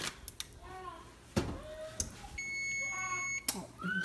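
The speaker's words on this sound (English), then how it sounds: "Oh, turn off the timer." A kitchen timer beeps steadily in a home kitchen while bacon-wrapped little smokies with brown sugar come out of the oven, its tone repeating clearly under nearby clatter and a voice.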